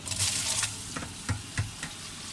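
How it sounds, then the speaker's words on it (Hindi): Onion, ginger, spice and tomato masala fries in a large deg pot for desi haleem, a steady close sizzle with a few soft stirring knocks and scrapes. "अब हम मसाले को भून रहे हैं"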